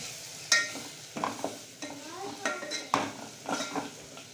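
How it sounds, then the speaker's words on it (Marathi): Spoon or spatula scraping and clinking in a pan while moth bean curry is stirred after salt goes in, giving several irregular close stirring strokes with soft metallic knocks. "मीठ टाकल्यानंतर हे चांगलं हलवून घ्यायचं"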